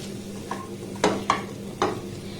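A spoon scrapes and stirs sabudana (sago) in a pan over a low flame, with a few distinct scraping strokes over a faint steady background hiss.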